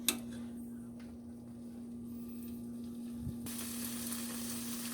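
Lasagna sauce ingredients sizzle and fry in a pan while being stirred, a steady close hiss with a faint scrape of the utensil and a low steady hum beneath.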